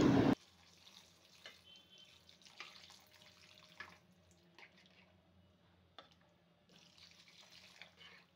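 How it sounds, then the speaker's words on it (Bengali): About two cups of water pour into a curry pot holding village shing catfish and taro, giving a steady, moderately quiet splashing rush that runs through the whole clip after a brief louder start. "এখন 2 কাপের মতো পানি দিচ্ছি।"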